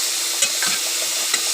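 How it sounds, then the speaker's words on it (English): Onions sizzle steadily in a hot pan, a continuous bright frying hiss with a couple of faint stir clicks and no voices. "It's just the onions are boiling away, or are cooking away"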